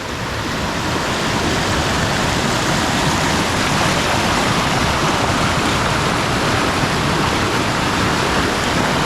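A river waterfall in the wilderness roars with a loud, dense, unbroken rush of falling water, heard up close for the whole stretch with no voices.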